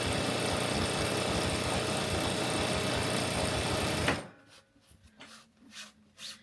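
A sewing machine sews a fabric scrunchie in a small studio. It runs with a steady, loud whir for about four seconds, then stops abruptly, and soft handling clicks and rustles follow.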